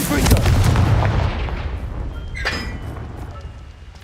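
A Confringo fire spell in Hogwarts Legacy sets off a loud, deep explosive boom that rumbles and fades over several seconds, with a sharper burst midway.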